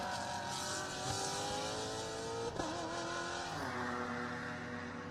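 A racing car's V8 engine, a big Ford tuned by Elan, drones loudly on track at the Rose Cup Races with Pirelli World Challenge GTS-X cars. It holds a sustained roar with pitch shifts and a brief gear-change dip midway.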